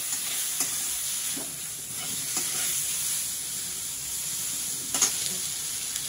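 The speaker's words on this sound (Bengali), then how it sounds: "সরষে ফোড়ন আর শুকনো লঙ্কা ফোড়ন দিলাম, শাক ভাজা।" Radish greens fry in oil tempered with mustard seeds and dried chilli, a steady sizzle with sharp ticks from popping seeds and occasional stirring scrapes, close and without speech.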